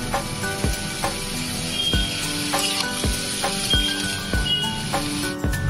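Spinach frying in a pan with a steady sizzle, broken by repeated scraping stirs at a roughly even pace, close and fairly loud with no voices.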